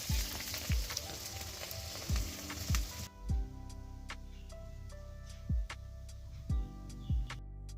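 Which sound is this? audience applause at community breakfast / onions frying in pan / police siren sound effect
onions frying in pan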